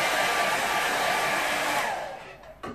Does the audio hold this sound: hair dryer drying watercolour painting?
yes